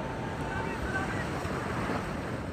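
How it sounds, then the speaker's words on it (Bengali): Big ocean waves surge and roar at Cox's Bazar beach in a steady, loud wash of surf with wind buffeting the microphone. "আরেকটা আসতেছে, দেখেন কি বিশাল ঢেউ।"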